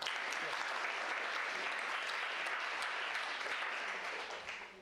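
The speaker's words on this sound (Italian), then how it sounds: "applauso" An audience welcoming a lecturer before a talk on internet culture breaks into brief applause, a thick continuous patter of many hands at moderate level that starts tapering off in the final second.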